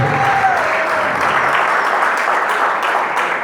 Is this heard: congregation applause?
yes